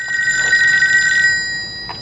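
An old telephone bell rings out loud and close from an out-of-order payphone booth in a 1961 Twilight Zone episode, one sustained metallic ring that fades, then a faint start of another.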